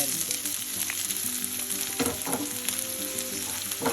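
Small onions frying in hot coconut oil with mustard seeds and dried red chillies, a close, steady crackling sizzle with occasional stirring scrapes and no voices.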